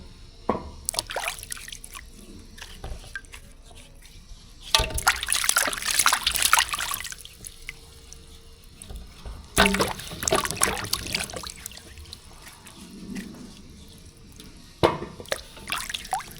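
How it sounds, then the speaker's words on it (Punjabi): Water runs and splashes in bursts as carrots are washed in a sink, loud gushing spells separated by quieter dripping and handling sounds, close by with no talking. "ਲਓ ਆਪਾਂ ਗਾਜਰਾਂ ਸਾਰੀਆਂ ਧੋ ਲਈਆਂ"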